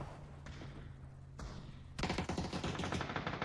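Faint scattered shots early on, then a louder burst of rapid gunfire erupts midway and rattles on to the end during an esports video game match.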